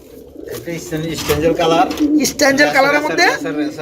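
Racer pigeons give low, throaty coos at close range while people talk over them throughout.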